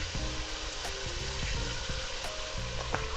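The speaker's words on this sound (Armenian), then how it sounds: "կարող եք սպասել մինչև տաքանար բուսայուղը, նոր ավելացնել մսի կտորները" Chicken meat pieces frying in hot vegetable oil give a continuous crackling sizzle at moderate level, with a faint low hum beneath and no voices.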